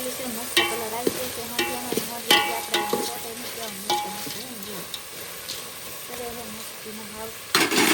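Shrimp fry in a pan while being stirred, a loud sizzle with repeated scraping and clanking strokes, and a person talks over the cooking.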